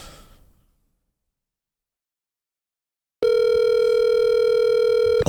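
A steady telephone dial tone begins abruptly after a stretch of silence and holds loud and continuous while a call is placed, with a faint noise fading out at the start.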